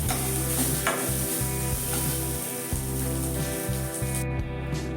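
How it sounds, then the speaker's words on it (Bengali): Soybean chunks fry in a little oil over a high gas flame, giving a loud, close, continuous sizzle. Regular scraping strokes of stirring cut through the sizzle. "এবার সোয়াবিনটাকে আমি একটু ভালো করে লাল লাল করে ভেজে নেওয়ার চেষ্টা করব"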